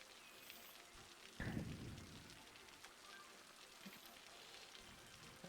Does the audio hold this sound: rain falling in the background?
yes